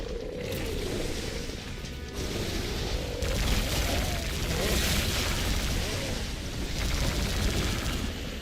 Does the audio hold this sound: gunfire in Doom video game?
yes